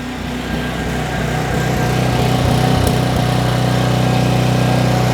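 A small Craftsman 5600-watt gasoline generator drones steadily up close with the choke fully off, its rough uneven running broken by slight sputters and surges.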